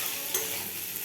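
Watermelon rind and fish frying together in a pan, a steady close sizzle with light stirring scrapes, heard alone without talk.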